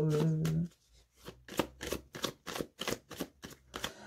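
Tarot cards are riffled and drawn by hand in a rapid series of crisp, rhythmic flicks and slaps, close up, after a brief hum at the start.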